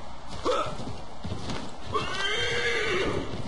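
A horse in the Assassin's Creed 3 video game gives two loud, close whinnies about a second and a half apart, with hoofbeats clip-clopping underneath throughout.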